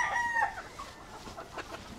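A young rooster, a Kelson brownie gamecock at a breeding farm, gives a short, fairly faint crow near the start, followed by soft ambient noise.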